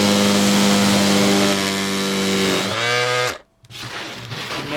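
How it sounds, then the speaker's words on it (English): Dewalt DCW210 random orbit palm sander running on wood and stepping down through its speed settings. A loud, close whine drops in pitch, cuts out briefly, then resumes. "Maybe if we have a smaller, more delicate piece of wood we want to sand, speed 1 might be better."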